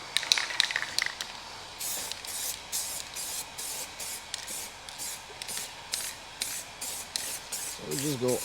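Spray product goes onto car wheels in a coverage coat: about a dozen short, close hissing bursts in a quick, regular rhythm after a brief lull, with faint handling noise between them.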